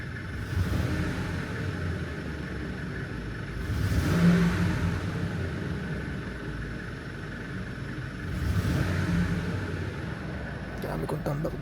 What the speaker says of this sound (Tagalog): Medyo bobombahin ko lang siya ng 2000 RPM.